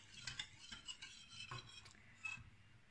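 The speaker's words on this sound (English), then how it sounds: "Now I make stir like this" Pudding of fresh milk and sugar being stirred in a pot over a small flame, a soft scraping swirl with light spoon clinks at a steady, unhurried pace, close and fairly quiet.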